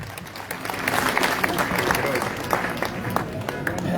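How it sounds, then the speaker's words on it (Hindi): A crowd at a political rally for a mayoral nomination breaks into loud, dense applause to welcome a state party president, a continuous clatter of many hands with voices mixed in. "तालियां बजा के स्वागत करो।"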